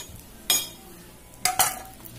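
Utensils scraping and clinking while fried dried fish is lifted out of the pan onto a plate, three short clatters against a quiet kitchen background.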